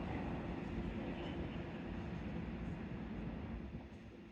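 A CrossCountry train rumbles steadily at Newton Abbot station, a loud, continuous rolling roar that eases off slightly toward the end.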